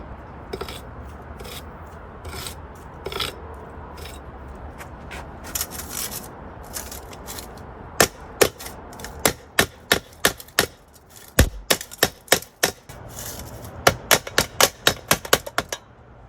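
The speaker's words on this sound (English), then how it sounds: "We just need to hammer those edges flat." Sharp metallic hammer strikes flattening metal edges outdoors, sparse at first then in rapid bursts of repeated blows, close by over faint outdoor background noise.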